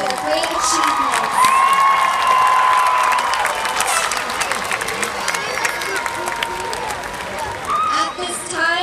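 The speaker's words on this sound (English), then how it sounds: "Please join me in a round of applause to recognize their great achievements." Applause and cheering from a crowd at a high school graduation, loud clapping mixed with whoops and shouts that rise early and then taper slightly while staying busy throughout.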